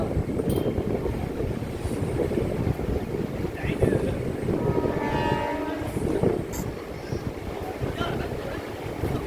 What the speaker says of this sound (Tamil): Shimoga weekly super fast express.